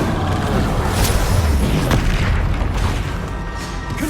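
Incendio fire spell cast in the video game Hogwarts Legacy, a loud, booming fiery whoosh with a sharp burst near the start, rumbling continuously over the few seconds.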